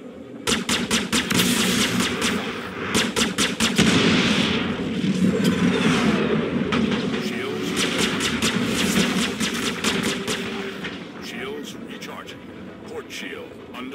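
Rapid bursts of spaceship weapons fire in Star Citizen during a fight against a pirate swarm in a Sabre Comet, rattling steadily over a deep engine rumble while a synthetic ship voice calls out warnings.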